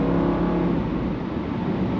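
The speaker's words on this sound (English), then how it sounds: "Got a great exhaust tone." A 2002 Mercedes-Benz CLK55 AMG on the move, its engine and exhaust giving a steady, full, close droning rumble with a mild rev throughout, no talk over it.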